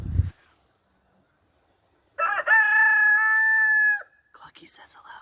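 A rooster at a big coop gives one loud, close cock-a-doodle-doo, its long sustained crow standing alone after a brief thump, followed by faint scratchy activity.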